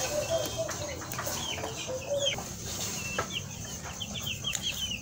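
Young Cobb 500 broiler breeder chicks, only a few days old, chirping in repeated high, quick peeps over a steady farm background hum, with soft clucking mixed in and no talk.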